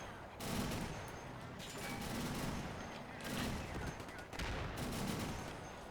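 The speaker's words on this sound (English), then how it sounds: "That quad 50 just opened up on that gun carriage." Quad .50 anti-aircraft gun fires in sustained rattling bursts in a World War II strategy game battle, dense overlapping gunfire filling the mix with brief gaps between volleys.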